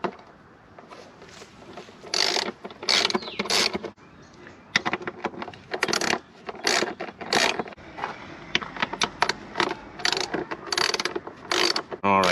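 Screws are being removed from the air filter housing of a BMW engine, with repeated ratcheting clicks in quick bursts, close by and fairly clear, with little talk.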